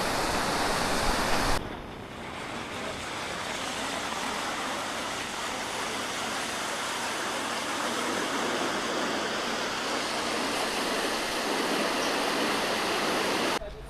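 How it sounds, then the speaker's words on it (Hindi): The Kakodiya Ghat mountain stream on the way to Harsil flows with a loud, constant broadband rush, close and steady throughout. "ये है आपका ककोड़िया घाट स्ट्रीम।"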